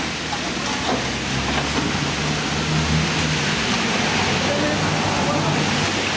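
Steady broadband hiss of rain runs throughout, with low rumbling and faint clatter in the background.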